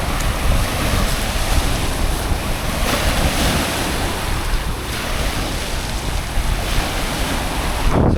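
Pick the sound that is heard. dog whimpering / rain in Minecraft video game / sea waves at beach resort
sea waves at beach resort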